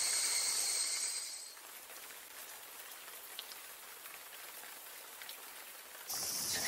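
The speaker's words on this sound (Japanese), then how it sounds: "雨が降ってきやがった。" Rain falling in a Japanese film, a steady soft hiss of drops on surfaces, with a brighter tonal sound at the start and end framing the quiet downpour.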